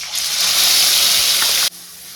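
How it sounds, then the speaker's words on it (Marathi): Ground onion-tomato spice masala hits hot oil already tempered with cumin and mustard seeds for a chickpea curry, setting off a loud, close, hissing sizzle that holds for over a second and then suddenly drops to a quieter simmer. "हे सगळा मसाला मी आता तेलात टाकून घेणार आहे"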